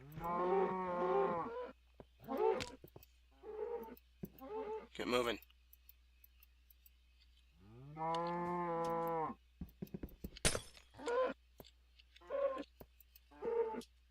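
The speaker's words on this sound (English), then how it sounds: "I think there's still a couple of cows left up here." Cows moo near the listener: two long, drawn-out moos and several shorter lowing calls are spread across the clip, with spoken voices in the quiet gaps between them.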